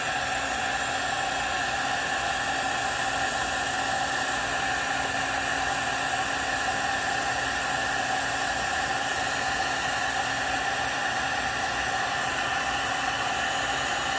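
A heat gun or hot-air tool heats a heat shrink solder connector during a Dodge Dakota second-gen stereo wiring install, giving a steady, loud broadband blowing roar with a faint tonal whine that runs unbroken throughout.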